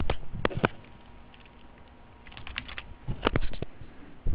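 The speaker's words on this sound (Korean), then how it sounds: "보시고 그대로 타이핑을 합니다." A computer keyboard is typed on during accounting data entry, with short bursts of quick key clicks separated by pauses over a low room hum.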